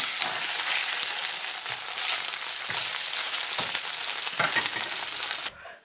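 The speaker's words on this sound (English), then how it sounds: "Heat some oil in the frying pan, not too hot, and then put them in" Steady, loud sizzling of sausage slices frying in moderately hot oil, a dense crackle that continues throughout and cuts off abruptly near the end.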